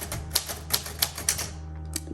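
A 1938 Royal Model O manual typewriter types in quick, crisp key strikes at an uneven rhythm. The clacks sound close and clear, with no talking.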